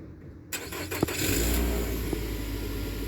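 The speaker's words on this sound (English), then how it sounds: "Car starts up." A car engine cranks and catches after a remote start from the key fob, then settles into a steady, close idle rumble with no one talking.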